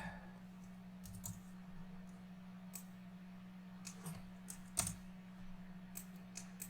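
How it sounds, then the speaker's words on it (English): Someone types code for a Unity game tutorial on a computer keyboard, producing faint, sparse, irregular keystrokes over a steady low electrical hum in a quiet room. "if you want to see me type it again, I'll do that right now."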